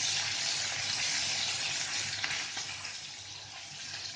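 Zucchini noodles fry in a pan with a steady, close hiss of sizzling and a few faint stirring scrapes partway through.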